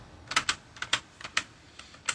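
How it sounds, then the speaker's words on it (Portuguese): A password being typed on a computer keyboard, a quick irregular run of crisp, close key clicks with no voices. "Estou entrando aqui, digitando a senha."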